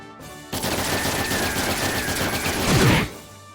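Rapid sustained gunfire from a game battle in The Legend of Heroes: Trails in the Sky, a dense loud burst of shots lasting about two and a half seconds, swelling near the end before cutting off.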